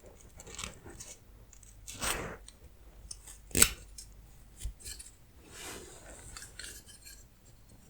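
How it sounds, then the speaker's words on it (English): Scissors snip and trim hair in a quiet room, a handful of soft, close, crisp cuts at irregular intervals with faint rustling between them and no talking. "Okay, I'll trim them a little bit."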